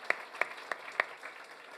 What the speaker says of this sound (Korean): 우리 주님께 다시 한번 박수 드릴까요?